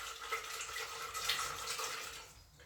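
Water sloshes and swishes in a bowl as almonds are rinsed by hand, a soft continuous liquid churning that fades slightly toward the end.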